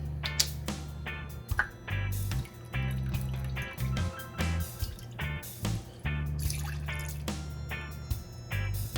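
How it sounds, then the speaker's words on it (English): Soy sauce poured into a bowl makes close, uneven trickling and dripping splashes, with a low background hum throughout. "Now we're gonna add 1/3 cup of soy sauce."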